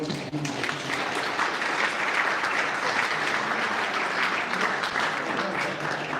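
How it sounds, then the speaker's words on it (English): An audience at a Waltham Ward 7 public meeting on the city master plan gives a steady, sustained round of applause for several seconds, the clapping even and continuous throughout. "So give yourself a round of applause for Jim"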